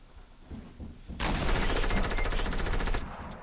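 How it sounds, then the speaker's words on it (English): Rapid automatic gunfire in the video game Fortnite, opening with a few scattered shots and then a dense, evenly spaced burst of rapid fire that lasts about two seconds. "Doesn't even realize he's being shot at."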